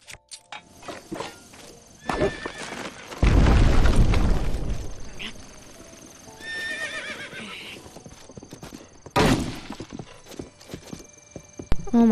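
A horse neighs and gallops toward the player in The Legend of Zelda: Breath of the Wild, clip-clopping hooves building to a loud, close burst of whinnying and running, with a few game effects around it.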